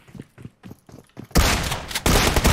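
Gunfire in the mobile battle royale game PUBG Mobile: a few spaced single shots, then a loud, dense burst of rapid automatic fire that pauses briefly and resumes, close and harsh.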